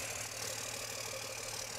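A Cummins diesel dually pickup with a 4-inch exhaust idles steadily, a constant low rumble with a faint rattle and no one talking.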